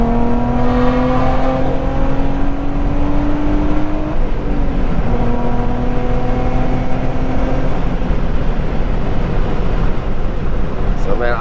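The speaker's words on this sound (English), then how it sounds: "Got the Z1 touring exhaust with the white pipe, stainless steel, with the ISR catless headers." A Nissan G35 Coupe with ISR catless long tube headers and a Z1 touring stainless steel exhaust drones loudly from inside the moving car, its engine note rising and falling with shifts through the gears.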